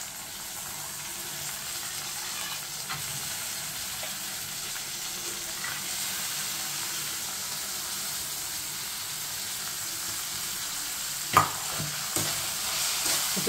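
Soaked chana dal frying in a pan for a ridge gourd curry, a steady close sizzle running throughout with a few scraping stirs of the spoon near the end.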